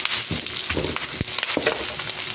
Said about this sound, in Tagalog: Isa na tayo ng bawang, luya, at sibuyas.